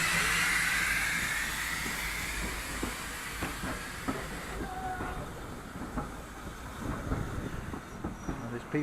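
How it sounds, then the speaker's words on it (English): A train on a single-track railway with a passing loop goes by, a broad rumbling roar with hiss and rhythmic wheel clatter, loud at first and easing as it passes, with faint voices in the background. "there's a train coming the other way"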